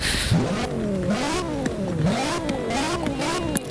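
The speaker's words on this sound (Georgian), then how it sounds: "ეს არის V10-ის ხმა" A BMW E60 with a V10 engine revs in the racing game Forza Horizon 4, its pitch climbing and falling in repeated swells.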